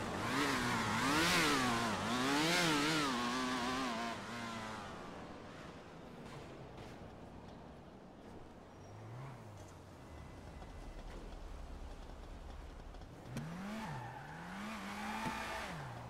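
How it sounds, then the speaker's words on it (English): A car in GTA 5 spins its wheels, with engine revs rising and falling and tires squealing, loud at first, then fading to a quieter stretch before the revving and squeal return near the end. "He actually does wheel spinning out like that"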